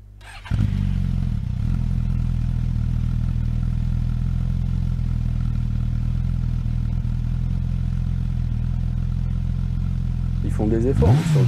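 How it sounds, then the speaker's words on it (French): A Suzuki GSX-S1000 GX four-cylinder motorcycle starts and settles into a steady, even idle close by, then the throttle is blipped for a quick rising rev at the end. "J'aime bien le son des 4 cylindres."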